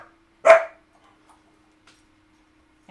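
A single sharp bark from a female pet dog rings out close by, followed by near silence with only faint small noises afterward.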